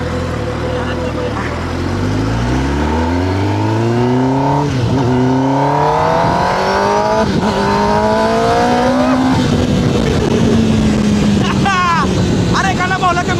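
A car worth about 25 lakh revs and accelerates while being driven, its engine note climbing in rising sweeps and building steadily over several seconds, with people talking throughout.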